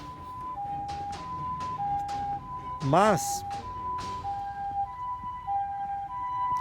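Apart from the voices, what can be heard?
ambulance siren passing by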